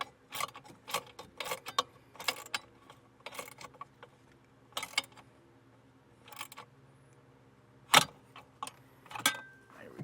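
A nut with a lock washer being tightened onto a longer bolt while mounting a Redarc Tow-Pro Liberty brake controller part on a 2020 Honda: a string of close metallic clicks and ratcheting bursts, spaced irregularly, louder near the end.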